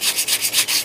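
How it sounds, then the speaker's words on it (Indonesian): Fine sandpaper rubbed back and forth on the shaft of an electric fan that hums and vibrates without spinning, six close, even scratchy strokes in a steady rhythm with no talk. "Kita amplas dengan amplas halus sobat ya, amplas halus."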